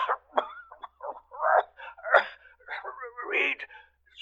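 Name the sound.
man coughing in a radio drama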